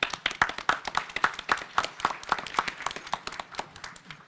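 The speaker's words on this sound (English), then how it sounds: "So I'd like to give you all a round of applause" An audience at a campus talk on depression claps in a sparse, rhythmic pattern, distinct individual claps in a quick steady beat that gradually fades, fairly close and without voices.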